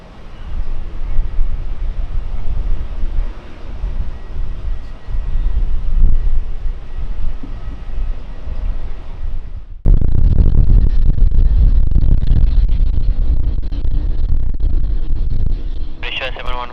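Delta airliner taking off from runway 09: a loud, continuous jet engine roar with heavy low rumble and wind buffeting that jumps to full power partway through, with air traffic control radio talk over it.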